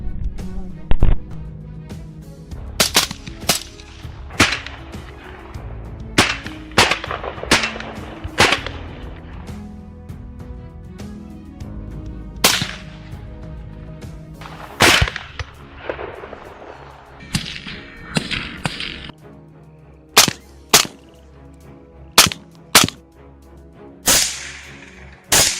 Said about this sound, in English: Gunfire cracked like a final period, ending the life of the beast